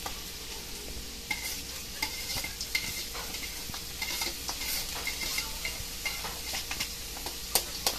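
Sliced carrot goes into a pan of bopis and is sautéed, a constant crackling sizzle broken by repeated sharp scrapes and clinks of a utensil stirring against the pan.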